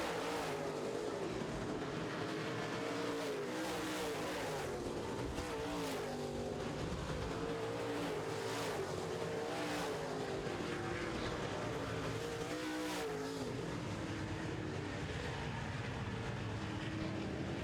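Modified race cars roar around an oval racetrack in a feature race, a continuous loud engine drone with rising and falling pitch as cars pass, heard from the grandstand distance throughout.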